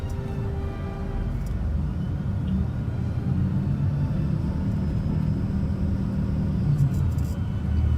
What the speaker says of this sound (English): A little bit of traffic.